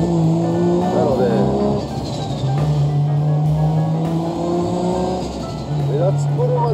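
Nissan Skyline R33 GT-R heard onboard, its engine droning and rising and falling in pitch as it drives, loud and close throughout, with someone talking over it.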